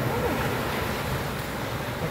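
Steady sea surf washes onto the beach at Pantai Cahaya Bulan in Kelantan, a continuous broadband roar with wind buffeting the microphone and no distinct breaking pattern.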